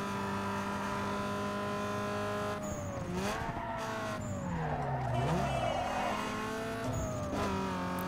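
Race cars, a GTI among them, roar and rev around a circuit in Need for Speed Underground 2, with engine pitch sweeping up and down through gear changes and bursts of tire squeal, loud and close.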